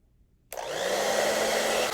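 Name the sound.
hair dryer running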